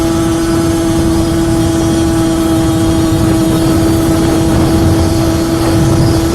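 A motorcycle engine drones steadily while the bike is ridden along a road, a constant close hum with a strong tonal whine and rushing wind noise, no talking.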